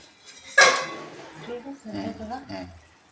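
A metal lid lands on a pot of brinjal curry with one sharp clatter, then rattles softly against the rim. Someone speaks nearby afterward.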